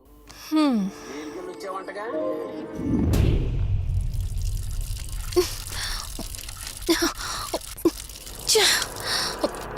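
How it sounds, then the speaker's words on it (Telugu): Water gushes steadily from a broken tap under repair that will not shut off, a close, continuous splashing rush. A gasp and brief voices are heard over it. "నువ్వెంత కట్టినా ట్యాప్ ఆగదమ్మా అది రిపేర్లో ఉంది"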